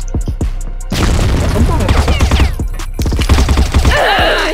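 A few sharp shots, then a loud grenade blast and a roaring burst of rapid automatic fire in CrossFire, with a second heavy volley after a brief pause. Loud and close.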